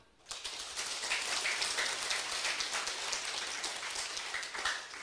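After a brief quiet moment, an audience bursts into dense, sustained applause at the closing ceremony of a senior administrative training class in Taiwan, and the clapping continues steadily to the end.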